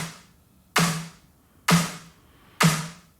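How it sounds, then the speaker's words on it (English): Three sharp snare drum hits in an EDM cover mix, each followed by a mid-boosted EQ'd reverb tail that swells and decays, evenly spaced and clean with near silence between strikes. "The reverb of the snare is actually shaping the sound a lot."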